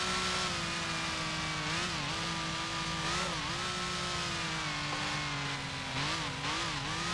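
Maserati 250F Grand Prix race car in Grand Prix Legends at the 1955 Reims round, engine note dropping and rising in pitch as the car brakes and shifts down, a steady loud drone without talk.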